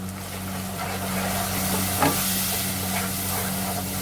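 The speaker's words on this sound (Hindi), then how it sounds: "मसाले को अच्छी तरह भून लेंगे।" Spices fry in a pot for palak gosht with a paste, dry coriander, whole spices, red chili, turmeric and salt, giving a soft, steady sizzle with a brief clatter partway through.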